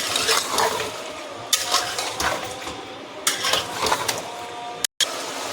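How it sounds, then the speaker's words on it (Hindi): Chicken sizzling and being stirred in garlic ginger paste in a pan, with a steady frying hiss and a few louder scrapes of the spoon, close and continuous. "अब इसमें डालेंगे चिकन। चिकन को अच्छे से भून लेंगे 2 मिनट तक इसको"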